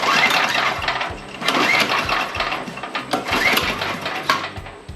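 A Craftsman DT tiller with mouse-chewed ignition wires and its kill switch unhooked cranks repeatedly without firing, a rhythmic, close, fairly loud mechanical churning that rises and falls with each pull.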